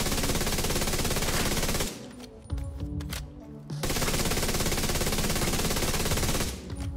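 An automatic rifle in The Division 2 fires two long sustained bursts of rapid shots, loud and close, separated by a short pause with quieter game sounds.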